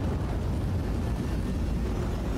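A dropship in the video game Mechwarrior Online gives off a heavy, continuous low rumble and roar, loud and unbroken for the whole stretch with no voices.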